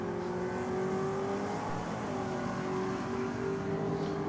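A Ford Falcon drag racing car accelerates hard down the strip, its engine note droning and climbing steadily and continuously at moderate distance.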